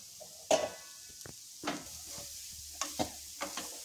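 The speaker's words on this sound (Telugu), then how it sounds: "అదే నూనెలో ఇది క్యారెట్ కూర వేసుకోవాలి" Grated carrot frying in oil in a pan, with a soft steady sizzle broken by a few sharp clacks and scrapes of stirring.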